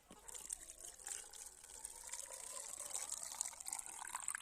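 Water poured from a container into a jar of apples being prepared for fermenting, a steady close liquid fill that runs continuously with slight splashy variation and no talk over it.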